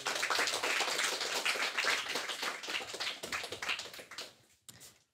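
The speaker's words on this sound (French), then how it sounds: "On peut les applaudir encore." Sustained applause from a seated audience honoring four project leaders at an entrepreneurship event, dense clapping that holds steady, thins out toward the end, breaks off briefly, then resumes faintly.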